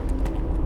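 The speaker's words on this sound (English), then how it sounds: "Your footsteps against concrete sound like this." A footstep or two on concrete in the video game Stalker 2, close and dry thuds with a brief clattering hit against a steady low background.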